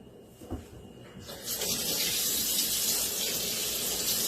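Cold water pours into a bowl, a faint soft start followed by a steady hissing gush once the flow picks up, with no talk.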